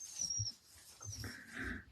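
A dog whimpers and whines faintly in windy weather, a couple of short, high, thin cries over a soft low rumble.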